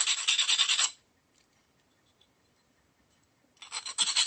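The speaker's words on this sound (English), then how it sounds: "So I'm just sanding down the edges." Harsh rasping sanding strokes on the edges of a resin Christmas nutcracker glass-art piece, a burst at the start, then near silence, then sanding resumes at the end; close and fairly loud.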